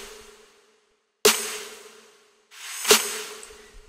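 An electronic snare in a melodic bass production alternates with its reversed version: a swelling reversed noise rises into a sharp snap, then a forward crack decays, with a faint sustained tone underneath.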